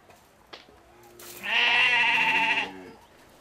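A single loud, wavering sheep or goat bleat rises after a brief quiet click, holding for about a second before fading, close by, in a Berber village.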